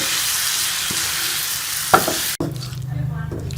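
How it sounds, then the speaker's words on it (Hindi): Boiled potatoes are mixed with masala in a hot pan for aloo chaat, giving a loud, close sizzle with a scraping stir before the sound cuts to a quieter, lower hum. "अब हम इसमें ये बॉईल किए हुए आलू शामिल कर लेंगे और इनको अच्छी तरह से मसाले के साथ मिक्स कर लेंगे"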